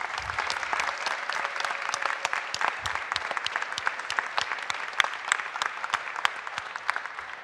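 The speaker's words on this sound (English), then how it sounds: "If you can all join me in a round of applause for them." Steady audience applause at a San Francisco budget signing ceremony, a sustained patter of many hands clapping in a room, even and moderately loud throughout.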